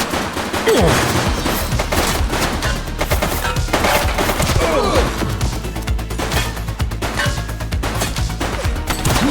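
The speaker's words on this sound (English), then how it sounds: "Shots fired!" Gunfire from the video game The Precinct: dense, loud bursts of rapid shots and bangs crowd together in a sustained fusillade, with crashes mixed in and almost no pause.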